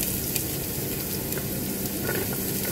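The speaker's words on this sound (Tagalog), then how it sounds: "Ito na po yung ating gigisa." Onion and garlic sautéing in a hot pan, a loud continuous sizzle and crackle with no talk.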